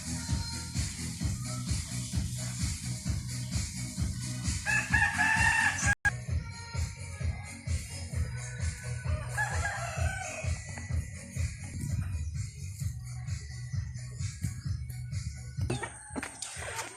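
Farmyard chickens on a rural province farm, with a rooster crowing repeatedly amid steady clucking and background animal noise; a loud crow stands out near the middle, with further calls continuing through the scene.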